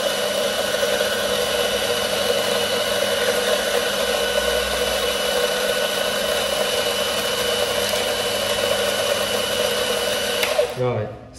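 A CRM 900N coffee bean grinder running, a steady, smooth motor hum with grinding texture held for about ten seconds before it winds down and stops.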